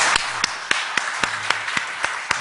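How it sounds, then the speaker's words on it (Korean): A church congregation at a Sunday service claps in steady rhythm, about ten regular beats over a background wash of scattered applause. "박수를 격려해 주시지요."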